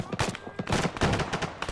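Rapid bursts of gunfire in Arma 3, a military shooter game, with sharp repeated cracks and machine-gun volleys overlapping in close, irregular succession.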